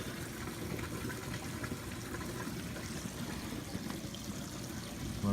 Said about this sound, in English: Blower's working like a champ.